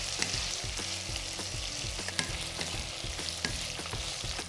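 Potato chunks fry with kalonji seeds in a pan, giving a quiet, steady sizzle. Frequent rhythmic scrapes and clinks from a spatula stirring come through, with no voices.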